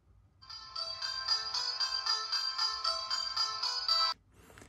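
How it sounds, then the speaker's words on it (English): Music plays from the small speaker of an IWO 13 smartwatch paired with an Android phone: a bright, thin, ringtone-like melody that starts abruptly, holds steady for about four seconds, then cuts off. "when playing music, the music sound will come in from the watch"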